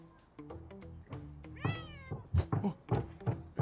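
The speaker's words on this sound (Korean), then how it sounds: "It's a fucking cat." A cat meows in a video game, one drawn-out rising and falling call amid a cluster of thumps, knocks and other bumpy game sounds at moderate volume.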